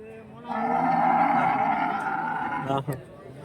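Cattle at a livestock market in Santhipuram, Andhra Pradesh: a single long, loud, close moo, ending in a short grunt, with faint market chatter around it.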